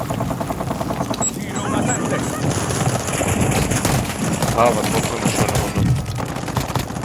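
Dense bursts of automatic gunfire in Modern Warfare 3, loud and continuous with overlapping shots and game noise, while a player talks over it.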